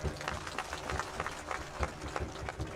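A crowd at a political rally in India claps to welcome the people seated on stage. The clapping comes as a dense, uneven patter, moderately loud, with some murmur of voices under it.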